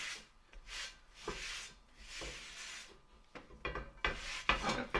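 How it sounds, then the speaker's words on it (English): A kitchen cloth wipes down a cheap cast iron skillet in several close, rough rubbing strokes, some longer and some short and quick, with light knocks of the pan toward the end. "just grab your normal kitchen cloth and give it a wipe down"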